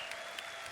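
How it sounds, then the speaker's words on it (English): Steady applause from a crowd at a TI13 Dota 2 esports tournament, honoring BB Team and Saika, a dense, even wash of clapping that runs unbroken through the whole brief moment. "Can we get a round of applause for BB Team and Saika?"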